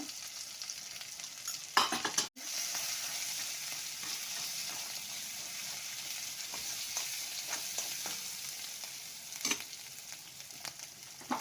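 Spices and ginger-garlic paste sizzle and fry in a pan, steady and soft, with occasional stirring scrapes and a sharp clink near the start.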